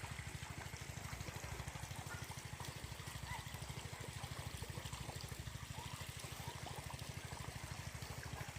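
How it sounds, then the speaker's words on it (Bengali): Water runs from a pipe to irrigate a mustard field, a continuous gushing trickle over a steady rhythmic low throb like a pump, even and unbroken throughout at moderate volume. "এই পাইপে করে জল দেওয়া হচ্ছে"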